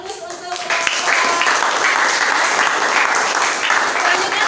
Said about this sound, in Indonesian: Ya, beri aplaus untuk